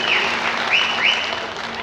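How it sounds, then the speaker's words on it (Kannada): Audience applause at the inauguration of a Kaginele Kanaka Gurupeetha branch monastery in Ketohalli, Bengaluru, heard as dense, steady clapping from a crowd that fills the whole stretch without pause. "ನೀವೆಲ್ಲ ಜೋರಾದ ಚಪ್ಪಾಳೆಯ ಮೂಲಕ ಅಭಿನಂದನೆ ಸಲ್ಲಿಸಬೇಕು"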